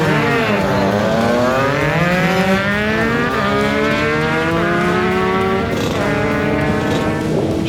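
A V8 drag racing car launches down the strip, its engine roaring loud and close through rising and shifting gears, the pitch climbing, dropping at each shift and climbing again, with no talking.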